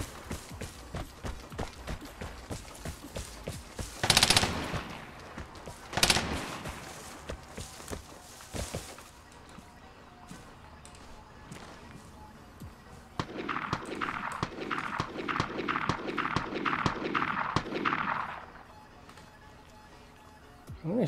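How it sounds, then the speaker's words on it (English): Gunfire in the online shooter Vigor, with two loud shots near the start, a few scattered reports, then a rapid burst of automatic fire in the second half over quieter game ambience and footsteps. "I'm gonna shoot this guy back."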